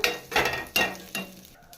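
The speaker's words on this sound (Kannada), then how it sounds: "ಹುರ್ಕೋಬೇಕು ಎಣ್ಣೆಯಲ್ಲಿ." Curry leaves crackle and sizzle in hot oil for green gram sambar, with three sharp bursts of spattering that fade into a quieter fry.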